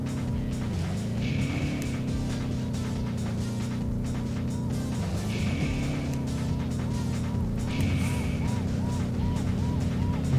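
Race cars from the Sly Cooper video game roar past in steady engine drone, with pitch swoops as cars pass and repeated chiming game effects over the continuous motor sound.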